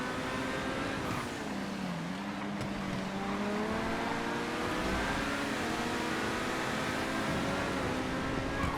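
A Speedster car engine races steadily in GTA FiveM, its sustained drone holding with shifting harmonic pitch as it revs and changes gear, loud and continuous with no talk.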